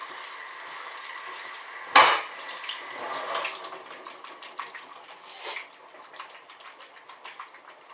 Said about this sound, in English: Add this in. Mix it together.